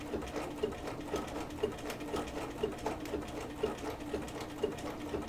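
A sewing machine stitches a poppy applique onto a quilt, running close by with a steady, evenly pulsing needle rhythm and no talking over it.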